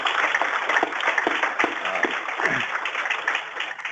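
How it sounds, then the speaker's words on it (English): A workshop audience in Hawaii applauds the panelists and moderators of a grid architecture session, giving steady, even clapping throughout with faint voices underneath. "if we can give them another round of applause again."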